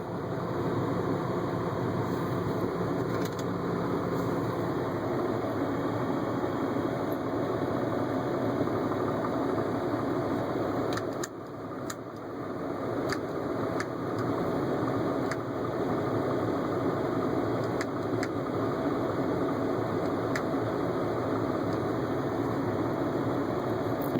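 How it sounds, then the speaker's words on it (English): A car's radiator cooling fan runs with a continuous whirring drone and low engine-like hum, steady throughout with a brief dip midway, heard up close and without talk. "Cooling fan is still running out there."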